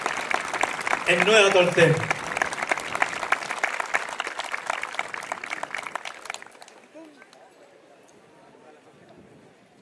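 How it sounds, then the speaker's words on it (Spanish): At a patriotic parade, a crowd gives warm, dense applause for a folk dance group's debut, the clapping fading out after about six seconds, while an announcer's voice speaks over the start. "Saludamos con un cariñoso aplauso a la agrupación folclórica Canto y Tierra en su debut"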